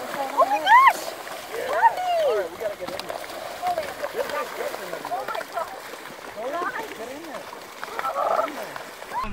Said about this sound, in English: I'm getting in the water with you.